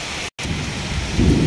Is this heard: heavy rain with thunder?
yes